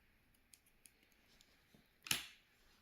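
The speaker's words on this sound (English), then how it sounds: "Cut the yarn" Scissors snip through crochet yarn in a single sharp cut, preceded by a few faint clicks of handling in an otherwise quiet room.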